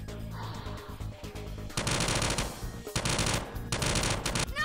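Submachine gun fire in the video game Insincere, with loud rapid bursts in three long volleys after a quieter opening.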